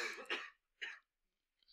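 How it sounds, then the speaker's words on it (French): Coughing in a classroom: two or three short, rough bursts close by, separated by brief silences, with no talk over them. "Arrêtez de tousser comme ça va s'entendre dans l'enregistrement."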